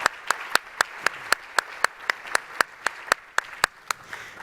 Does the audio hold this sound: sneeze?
no